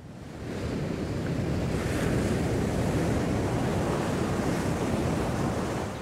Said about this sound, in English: So it might be the sound of waves.